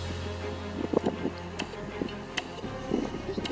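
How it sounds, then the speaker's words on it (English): Gusty outdoor wind buffets the microphone in uneven rumbling bursts during an RC plane build test, with voices talking over the wind. "Oh nee, de wind, de wind."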